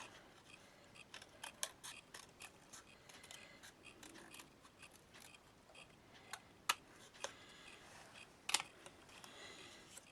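Scissors trim around a paper heart, producing a quiet series of crisp irregular snips and clicks, close-up, with no one speaking.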